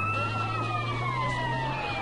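A police siren in Grand Theft Auto: San Andreas wails steadily over a low engine drone, its pitch sliding gently, with a slightly synthetic, game-like quality.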